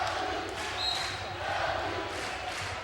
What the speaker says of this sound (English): The LU chant comes up from the crowd.